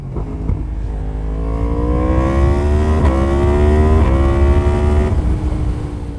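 Yamaha MT-10 motorcycle with its CP4 crossplane engine revving nearby, rising through several climbing revs with quick blips before dropping back to a rumbling idle, loud and alone.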